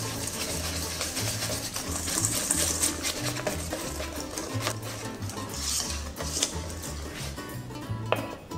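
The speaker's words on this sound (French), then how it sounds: "On ajoute les œufs brièvement battus et on va mélanger en incorporant la farine petit à petit." Whisk or spoon working beaten eggs into flour in a bowl for crêpe batter, a steady close rhythmic scraping and wet rubbing that continues throughout, with no speech.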